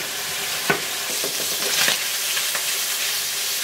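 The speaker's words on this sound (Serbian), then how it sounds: "Dok se slanina prži" Bacon fries in a pan with a loud, steady crackling sizzle throughout, broken by a few spatula scrapes and stirring clicks up close.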